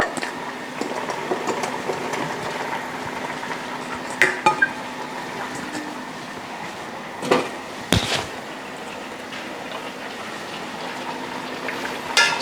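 Whole peeled tomatoes, carrots and potatoes are stirred into a beef stew with dark beer. A spoon scrapes continuously in the pot, with a few sharp knocks against the rim.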